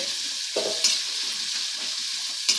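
Onions frying in a pan for drumstick-leaf rice give a steady, broad sizzle, with a louder spatter as they drop in and a few soft scrapes of stirring. No one speaks.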